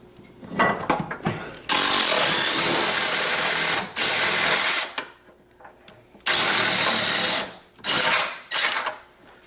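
An impact gun set in reverse works on a car strut in several close, loud bursts. Two long runs are broken by short gaps, and shorter bursts and clatter come between them.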